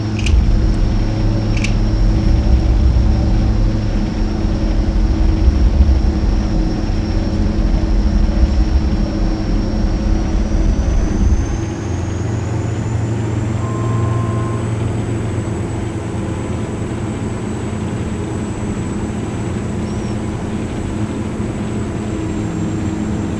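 Turboprop aircraft engines in X-Plane 11 drone steadily and loudly in a simulated flight into a storm near St Petersburg, with a continuous hum whose low rumble eases partway through while a high tone slowly rises.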